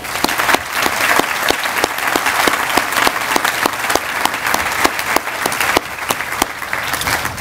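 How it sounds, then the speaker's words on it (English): A large audience at a groundbreaking ceremony for a new children's hospital gives a tremendous round of applause, dense sustained clapping with sharp individual claps standing out throughout. "you all deserve a tremendous round of applause"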